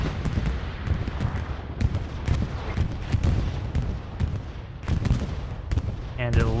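Incoming rockets and a bombing run in the World War II shooter Hell Let Loose, a dense continuous barrage of loud overlapping explosions and gunfire blasts, with faint voices underneath.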